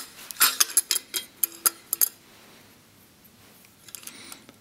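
Metal clinks and small rattles as a Tong Gong instrument tong is hung upside down and slid under washers: a quick cluster of sharp, close ticks over about two seconds, then near quiet with a few faint taps.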